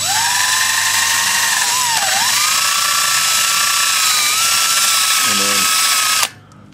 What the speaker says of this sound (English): just your drill and your wire wheel.